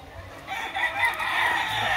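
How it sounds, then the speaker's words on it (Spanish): An ash-gray rooster at a gamecock farm lets out a single fairly faint crow lasting over a second, with no talk over it. "Miren este gallo cenizo, qué belleza."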